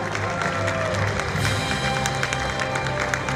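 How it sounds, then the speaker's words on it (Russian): Audience applause for designers at the Kazan Islamic Clothes 2018 fashion festival, a steady dense wash of clapping from a crowd lasting the whole moment, fairly loud with no break. "Ваши аплодисменты нашим дизайнерам."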